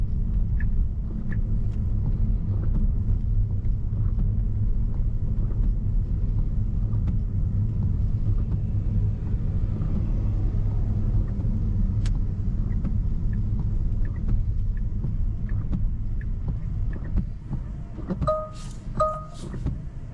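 Cabin of a Tesla driving itself on Full Self-Driving 14.3.2 as a ride-hail car: a steady low road rumble and tire hum fill the interior, and a pair of faint electronic chimes sound near the end.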